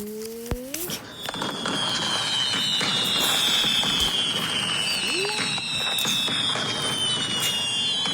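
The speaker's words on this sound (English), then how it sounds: "Oh, the fireworks." Fireworks go off in a dense, continuous burst of crackling pops and rising whistles, loud and busy for several seconds after a brief lead-in.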